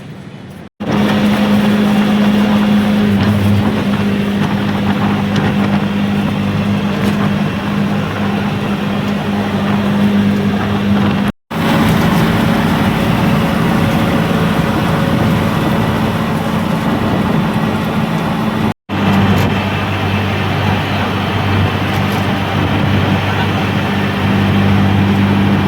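Auto rickshaw running on CNG during a highway ride from Virar to Shirdi, a loud continuous engine drone with a steady low hum and road rumble, broken by a couple of brief cuts.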